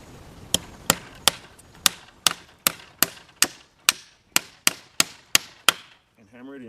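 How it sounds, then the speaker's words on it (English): A hammer strikes a nail into a branch about fourteen times in a steady, sharp rhythm, close and loud, followed by a short rustle. "and hammer it in there good enough just to nail it on"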